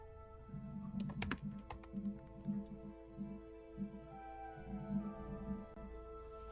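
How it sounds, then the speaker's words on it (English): Steady typing on a computer keyboard, a run of soft, fairly close keystrokes in irregular bursts over a faint background hum. "Doug is typing."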